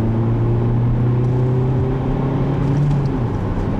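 A 2013 Ford Focus compact car with a manual gearbox accelerates on a test drive, its engine a steady loud hum with tone rising and shifting, heard from inside the cabin with road rumble beneath.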